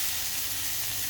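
Tomatoes hit hot oil in a pan of mutton kulambu masala, giving a steady close sizzle and frying hiss with no talking.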